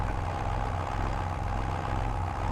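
A Fiat tractor engine in Farming Simulator 22 holds a steady, low, rumbling idle with a continuous droning hum, even in level and heard alone without talk.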